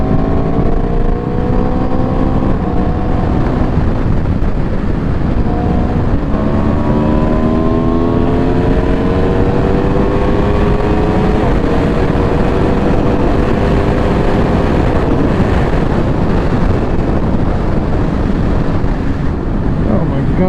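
A 2018 Aprilia RSV4RR motorcycle engine running hard at speed, a steady loud drone with rising and falling pitch through gear changes, buried under heavy wind buffeting on the microphone.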